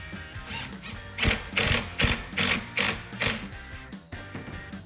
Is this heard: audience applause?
no